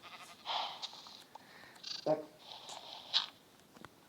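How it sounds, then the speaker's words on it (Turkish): Minecraft sheep bleat in a Skyblock game, several short nasal bleats close by mixed with game sounds, while a voice talks over them. "Koyunlarını başımdan al."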